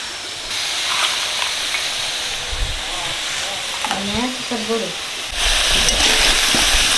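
Onion, ginger and garlic paste dropped into hot oil left from frying potatoes, giving a steady sizzling hiss that swells louder near the end, with brief low voices in the middle.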